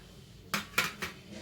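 A spoon mixes rasam powder into poha gojju in a bowl, making three distinct metallic clinks against the bowl about a quarter second apart over a quiet background.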